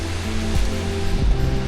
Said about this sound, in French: Ça c'est une vraie cascade.